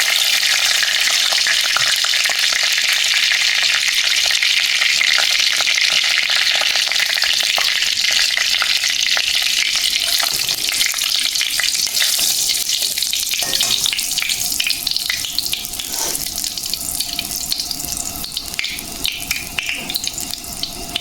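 Bay leaves and dried red chillies fry in hot oil for a vegetarian dish, a steady dense sizzle running throughout with occasional faint stirring clatter, close and loud.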